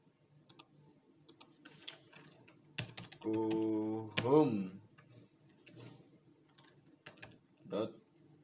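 Web address typed on a computer keyboard, a short run of quick soft key clicks close by, spoken instructions around it.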